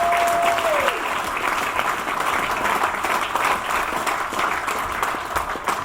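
A crowd at a sailing club championship awards bursts into sustained applause, dense steady clapping that carries on evenly for several seconds.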